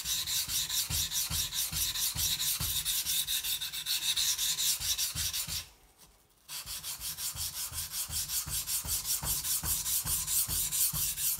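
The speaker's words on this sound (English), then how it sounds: "the feel on the steel is like this is a very coarse stone. You can also hear it, I suppose." Knife steel ground on a coarse whetstone (Nanohone 200 or Bester 220 class), a steady rhythmic rasping scrape of repeated strokes, close and loud, with one short pause midway and no talking.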